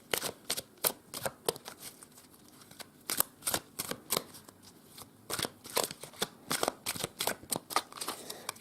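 A deck of tarot cards is shuffled for a reading in quick, crisp flutters and taps, close and fairly quiet, repeating in an uneven rhythm with no talk.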